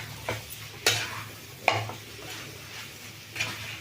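Mutton liver fry in a pan as coriander goes in at the end: a few sharp scraping stirs of a spoon against the pan over a low steady frying hiss, close and fairly quiet.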